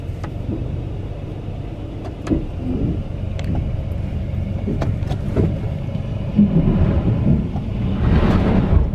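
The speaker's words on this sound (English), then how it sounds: "four wheels engaged, four wheel drive works, so the transfer case is good" 2004 Dodge Dakota driving with four-wheel drive engaged, a steady low engine and drivetrain rumble with scattered knocks and clunks, close and without talk.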